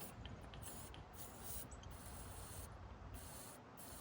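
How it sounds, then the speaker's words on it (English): Hissing aerosol spray of penetrating oil in short bursts with brief pauses between, fairly quiet and close, no voices, sprayed into a 1979 Oldsmobile Cutlass left sitting for 29 years. "Let's spray some of it in there."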